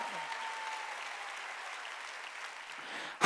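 A church congregation claps together during a sermon, a steady, moderately loud patter of many hands that fades slightly before a sudden loud burst right at the end.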